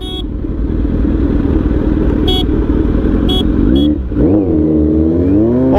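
A 948cc motorcycle idles loudly and close in sports mode, then revs up sharply and launches, engine pitch rising in a steady climb, with a few brief beeps early on.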